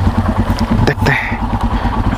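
A motorcycle rides along a road in Ladakh with a close, steady engine drone and pulsing low rumble throughout the brief moment.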